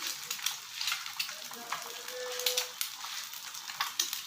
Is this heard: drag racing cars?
no